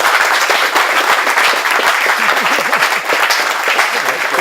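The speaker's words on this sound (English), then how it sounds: "So with that, please give him a big warm applause." Warm applause from an event audience honoring a guest who works with foster-youth programs: dense, steady clapping throughout, loud and close, with a few voices murmuring underneath.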